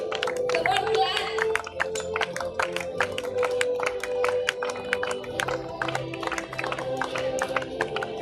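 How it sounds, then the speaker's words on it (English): Audience at a Model United Nations event claps in a steady stream of sharp, overlapping hand claps, with a voice talking over it. "Come on, clap."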